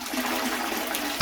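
Toilet flushing after shower trap goo is tipped into the bowl: a steady close rush of water runs throughout, ending in a brief louder gurgle.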